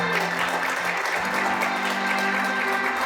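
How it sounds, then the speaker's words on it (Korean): An audience at the 2023 Korea energy expo applauds as a committee chairman is welcomed onto the stage, with steady, dense clapping filling the hall over a faint sustained hum. "여러분 박수 부탁드립니다."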